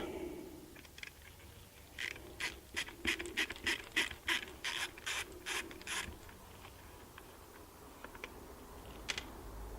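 A screwdriver backs Phillips screws out of a Bosch alternator on a Mercedes ML320, a quiet run of rapid ratcheting clicks for a few seconds, then a few faint isolated clicks.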